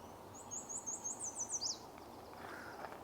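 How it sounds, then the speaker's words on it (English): A yellow warbler sings a single bright, high, accelerating run of sweet notes, distant yet clear over a quiet marsh background hum. "Still hear that yellow warbler. It's been singing away all morning."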